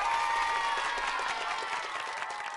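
Applause and clapping from a cartoon audience at a curtain call, a steady wash of hand claps that runs loud and unbroken from start to finish with no voice over it.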